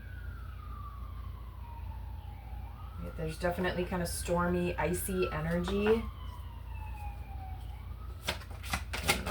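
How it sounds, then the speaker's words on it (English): Emergency vehicle sirens wail from a distance, a faint rising and falling tone that sweeps on and off while someone speaks over it in the foreground. "I don't know if you can hear the sirens"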